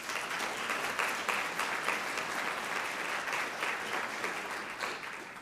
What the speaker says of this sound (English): let's please give you all a round of applause